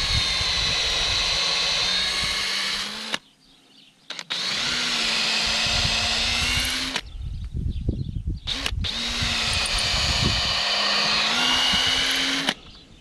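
Power drill boring through a wooden roof rafter, three long sustained whining bursts, close and loud, separated by short pauses filled with handling noise.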